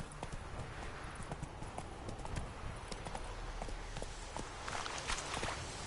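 Roach the horse clip-clops steadily through Witcher III on PS4, her hooves thudding in a brisk, continuous walking rhythm, close and clear over a soft ambient game backdrop.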